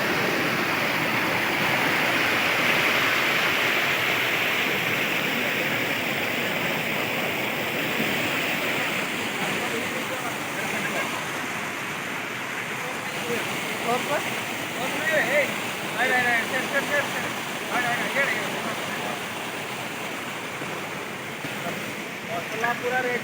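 A waterfall in a village setting rushes with a steady, loud, broadband roar throughout, and faint voices come through briefly near the end.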